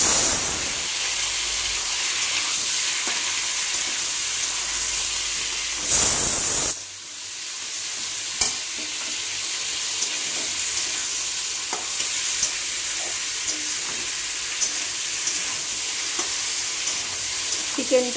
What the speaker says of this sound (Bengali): দেখো তেলটা গরম হয়ে গেছে, আমি চিকেনটা ছেড়ে দিচ্ছি। চিকেনটা একটু ভেজে নেব।